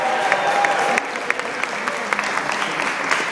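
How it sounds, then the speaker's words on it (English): Guests at a party applaud the hosts after a toast, a burst of close clapping from a small crowd that stays dense and even throughout, with a few murmured voices beneath. "give a round of applause to Mrs. Tom and Carolyn O'Neill"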